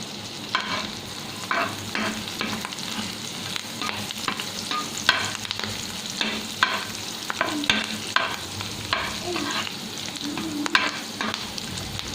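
Curry leaves, crushed cumin, fenugreek and garlic frying in a pan, a constant sizzle broken by rhythmic scraping stirs of a spoon, close and steady, with no talk.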